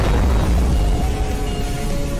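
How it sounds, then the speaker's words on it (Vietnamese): Atomic bomb blast in the Shin Sonic video game, heard as a loud, sustained low rumbling roar that fills the whole stretch without letting up. "Hãy bắn bom nguyên tử đi."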